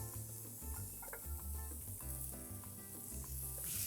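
Steady, dense sizzling of a burger patty frying on a hot grill, loud and continuous throughout, with scattered crackles and pops and no talking.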